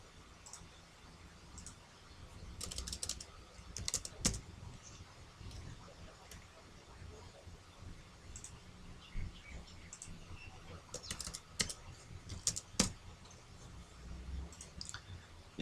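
Computer keyboard keys are tapped while typing code, in faint, irregular bursts of small clicks, some clustered quickly, others isolated, against a quiet background.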